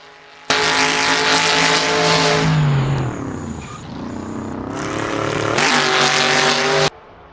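A Chevy Camaro race car in Assetto Corsa, an ACL TAR 69 Trans Am racer at Riverside, roars loudly and steadily close by, its engine note dropping on a downshift and braking mid-pass, then climbing again under hard acceleration before cutting off abruptly.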